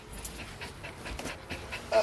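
Dog panting in quick, rhythmic breaths, close and fairly quiet against a faint outdoor background, with no speech.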